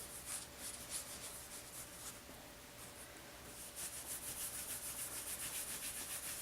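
Paper towel rubbed firmly over crusted buttercream icing on a carved boot cake, a continuous soft scratchy swishing in repeated strokes, close and quiet with no talking.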